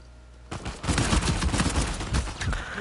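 Rapid gunfire in a Halo match played on PS4, a dense run of loud, close shots that starts after a half-second lull and rattles on steadily to the end.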